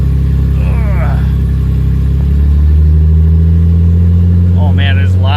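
A drift car's engine runs loud and close, holding a steady throaty drone that swells partway through as it revs, while a voice talks over it at the start and again near the end.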